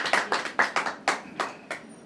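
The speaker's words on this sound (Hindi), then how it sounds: "एक बार तालियां बजा के आप सभी अभिनंदन बहुत।" A small audience at a literary, cultural and social-service society seminar claps: about seven separate, fairly crisp hand claps in an uneven rhythm, moderately close, with no cheering or talking.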